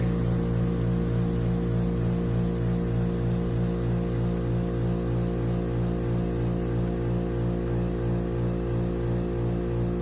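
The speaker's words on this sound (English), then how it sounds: "So the heat pump's making the noise." A frosted-over outdoor heat pump gives off a constant, loud electrical hum with a steady buzzing drone that never changes for the whole stretch.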